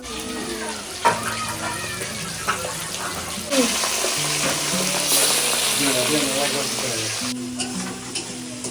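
Several pieces of katla fish fry in a pan in a home kitchen, a continuous hiss and sizzle with occasional stirring clinks while people talk over it.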